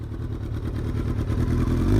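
A Kawasaki ZX-12R motorcycle's 1199cc inline four-cylinder engine runs loud and close, its deep steady drone rising slightly as it revs, with a mechanical clatter underneath.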